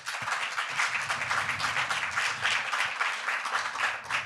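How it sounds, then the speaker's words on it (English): A conference audience in a museum setting claps for a panel, producing an even wash of applause that is moderately faint and holds steadily throughout. "So if I can have a round of applause for the panel."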